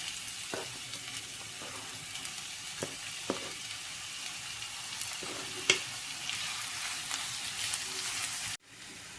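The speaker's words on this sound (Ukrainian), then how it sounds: "Нарізану цибулю відправляю на розігріту пательню і обсмажую її на олії." Chopped onion sizzles and crackles in hot oil in a preheated pan, with a few soft scraping or stirring knocks over the steady frying hiss; the sound cuts off abruptly near the end.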